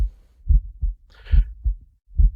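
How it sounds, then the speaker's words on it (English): Heartbeat sound effect from the video game Eversion, five deep muffled thumps in an uneven pulse with a short burst of higher noise in the middle, loud and close, no voices. "Why the heartbeat sounds?"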